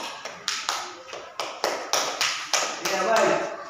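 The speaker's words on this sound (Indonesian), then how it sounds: "Tepuk tangan untuk silakan." A school class claps in a series of sharp, loud, rhythmic claps, about a dozen beats in a steady pulse that quickens into a denser burst at the end, with voices alongside.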